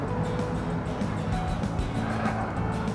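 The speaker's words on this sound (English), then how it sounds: "hopefully those cars aren't too loud" Cars passing by outside a home, a steady low engine and tyre rumble that swells slightly as vehicles go past, heard at a moderate distance without speech.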